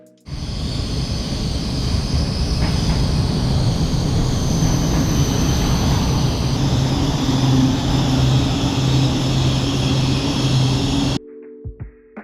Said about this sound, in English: the train pulled into the station 5 minutes before departure